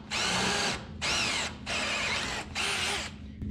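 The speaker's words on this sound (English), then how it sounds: "We're gonna drill that baby out." A power drill whines at high speed in four bursts, each about a second long, separated by brief pauses, close and loud, drilling into the steel frame of a 1980 square-body truck.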